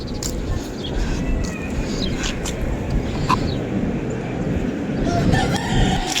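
A rooster crows somewhat distantly beneath steady outdoor background noise, with other fowl faintly audible.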